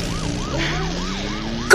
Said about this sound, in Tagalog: May dumating na mobil ng pulis.